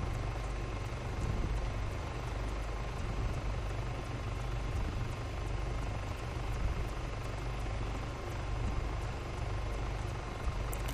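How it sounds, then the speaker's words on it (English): Helicopter in the Altis Life video game, a steady loud rotor and engine drone filling the whole stretch with no talk over it. "now I have Gatto and Rage Monkey in my helicopter, and I'm escorting him to the police office,"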